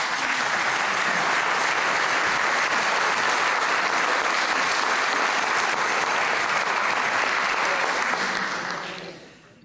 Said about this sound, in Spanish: vamos a recibir ahora mismo en el escenario con un fuerte aplauso